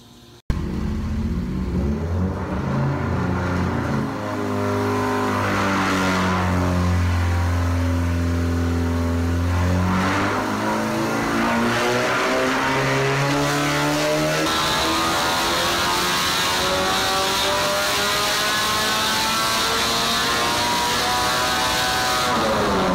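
Honda K-series engine on a test stand revving hard, rising and falling through several sustained pulls with a strong harmonic drone, loud and close throughout, no talking.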